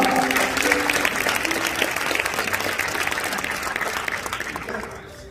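Audience applause at a school graduation ceremony as a graduating student comes up to address the teachers: dense, sustained clapping from a full hall with faint background music, tapering off at the end.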